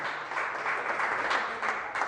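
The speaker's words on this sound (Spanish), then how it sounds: "Dame un aplauso al Señor por sus bendiciones" A church congregation applauds during a sermon, a continuous wash of many clapping hands, moderately loud and steady for a couple of seconds.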